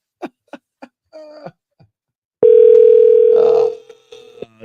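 A steady telephone dial tone sounds for about a second as a Google Voice call connects, loud and alone, preceded by a few short clicks and followed by faint tones.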